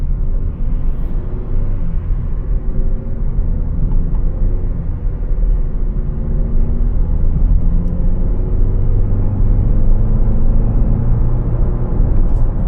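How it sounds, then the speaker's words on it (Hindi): A Skoda Superb driving through traffic and on open roads in Gurgaon, India, heard from inside the cabin: a loud, continuous low road-and-engine rumble with a steady whir and no talking. "चलो अब कार चलाते हुए बात करते हैं।"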